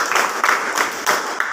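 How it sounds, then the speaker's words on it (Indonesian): A group of schoolchildren claps their hands together in a classroom, with bursts of loud, near, rhythmic clapping in repeated sets and short pauses between them. "Oke, tepuk tangan semuanya."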